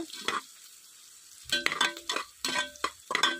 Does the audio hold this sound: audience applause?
no